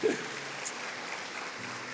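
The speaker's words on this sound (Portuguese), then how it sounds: "Se você crê nisso, aplauda Jesus em nome de Jesus." A church congregation applauds during a worship service, a soft, steady wash of clapping that stays fairly faint and distant throughout.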